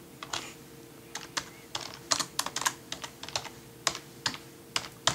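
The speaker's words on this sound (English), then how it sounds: "Typing with one hand." Quick, irregular clicking of keys on a computer keyboard, close by, with short bursts and pauses, no voices.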